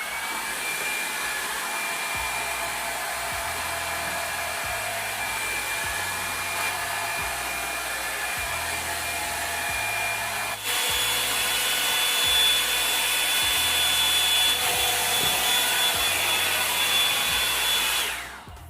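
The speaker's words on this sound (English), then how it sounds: "I'm going to continue blowing dry my hair" A Revlon Salon One Step hair dryer volumizer blows continuously at close range, a steady whooshing hum with brief shifts in pitch and a brushing rhythm underneath, then cuts off at the end.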